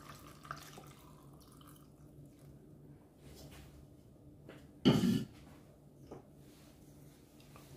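Water is poured into a blender jar holding apple and spinach for a belly-fat detox drink, a brief close splash of about half a second after quiet handling noises, with no talking.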